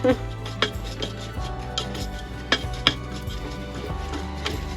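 A spoon clinking and scraping against a bowl while a mixture is stirred, with several sharper knocks standing out over a steady background hum.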